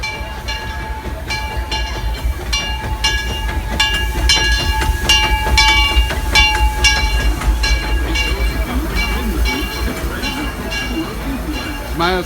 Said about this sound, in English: The Disneyland Limited, now arriving from a trip around Walt Disney's Magic Kingdom.